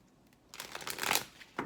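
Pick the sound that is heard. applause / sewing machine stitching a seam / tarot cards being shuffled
tarot cards being shuffled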